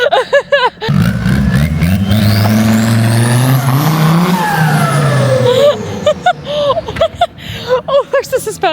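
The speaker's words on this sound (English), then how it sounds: "She's done a burnout!" An old, previously abandoned AMG car doing a burnout with its tires spinning: a loud engine roar rises and wails in pitch for several seconds, then drops away into excited voices talking nearby.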